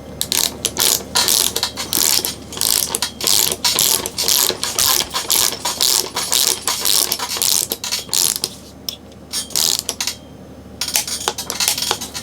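Ratchet clicking as 5mm bolts with Loctite are tightened to 9 Newton meters, a rapid run of close, loud metallic clicks in bursts across most of the span, pausing briefly near the end.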